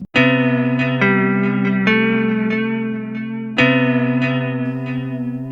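Sustained, hazy synth chords from the Yume Nikki video game soundtrack drift and shift with echoing, reverberant tones, giving a strange, hollow and otherworldly mood; no voices.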